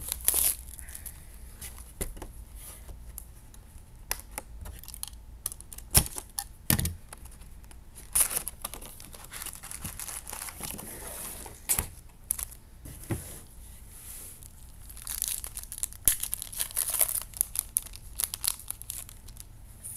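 Foil wrappers of 2013 Upper Deck SPX football card packs crinkle and tear open up close, irregular bursts of crumpling and ripping with quieter pauses between, no voices.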